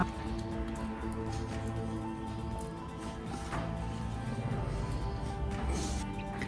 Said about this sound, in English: I'm going to pour in the lentil mixture into this microwave safe pan